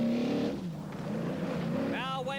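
Rally car on a 1983 rally sprint stage moving onto tarmac, its engine droning and shifting pitch beneath a commentator's voice.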